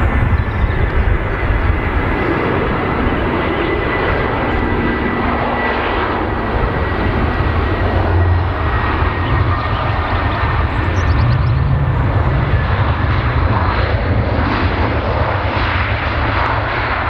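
An airliner on approach to runway 23R at Manchester Airport, its engines producing a loud, steady roar that holds throughout without fading.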